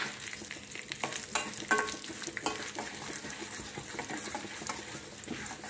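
Small broken pieces of cinnamon bark fry in oil with a soft, uneven sizzle and light crackling pops, accompanied by faint spoon scrapes nearby.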